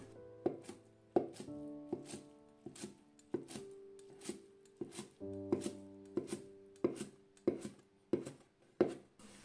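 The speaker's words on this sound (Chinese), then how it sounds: "用刀给它切碎。" Steady rhythmic chopping of soaked glass noodles with a kitchen knife on a cutting board, about a dozen crisp close knocks spaced evenly, each with a brief ringing tail.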